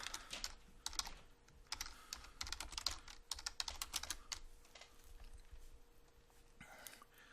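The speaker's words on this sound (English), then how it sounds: "it's as simple as typing in that right there" Rapid keyboard typing in bursts of clicks, with short pauses between runs and a low steady hum underneath.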